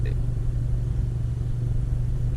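A 10th-generation Honda Civic engine fitted with a PRL Cobra cold air intake hums with a deep, steady rumble heard from inside the cabin, idling evenly without much revving.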